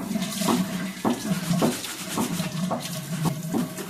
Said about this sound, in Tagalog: Dito, hinugasan lang sa gripo to.